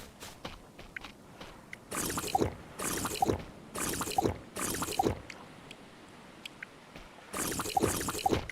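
Water dripping and trickling in the survival game Stranded Deep, heard as a few separate bursts of splashy, watery noise spaced a second or so apart over a quiet ambient background.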